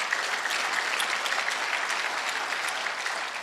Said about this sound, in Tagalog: Lakasan niya yung palakpak niya.